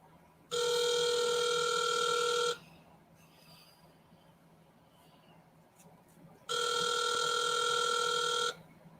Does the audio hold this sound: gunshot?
no